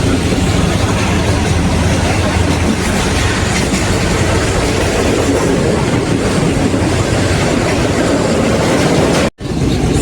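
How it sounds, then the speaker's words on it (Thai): Local train 447 from Surat Thani to Sungai Kolok, an old carriage with classic wooden seats, rumbles loudly and steadily with a rhythmic clickety-clack of wheels, cutting out briefly near the end. "บรรยากาศรถไฟกับเก้าอี้ไม้ คลาสสิกเนี่ย อายุใช้งานยาวนานมาก ๆแล้วนะครับ"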